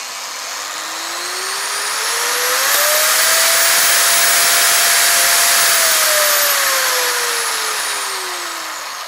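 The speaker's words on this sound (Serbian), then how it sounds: "kada sam pokrenuo brusilicu na malim obrtajima" A Bosch GWX 9-125 S X-Lock angle grinder runs alone at low speed: a loud, steady whine that spools up, holds for several seconds, then winds down, with a clear rising and falling motor tone.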